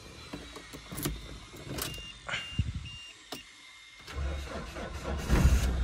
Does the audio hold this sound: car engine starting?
yes